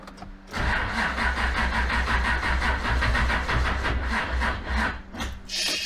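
A 1986 Mazda with a swapped electric power steering pump cranks and catches, then settles into a loud, rough idle with a rhythmic pulsing and a brief surge near the end.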